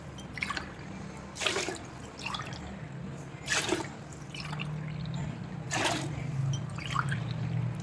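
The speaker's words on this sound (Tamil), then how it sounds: "6 டம்ளர் தண்ணி சேர்த்துக்கலாம்" Water goes into a pressure cooker while peanut rice is being made, heard as quiet, intermittent splashes and drips spaced a second or so apart over a low steady background.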